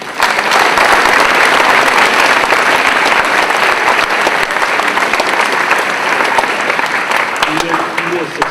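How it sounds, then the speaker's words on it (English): A large audience at a school awards ceremony applauds continuously, dense steady clapping filling the room, with a voice faintly speaking near the end. "let's give him a round of applause."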